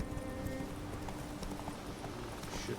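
Horses galloping in The Witcher 3, a dense run of hoofbeats with a low rumbling bed of game sound beneath, steady and fairly close without a pause.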